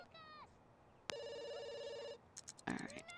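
Electronic phone ring from The Sims 2 video game, a short burst of rapid warbling rings followed by game chimes and effects, fairly faint with no speech over it.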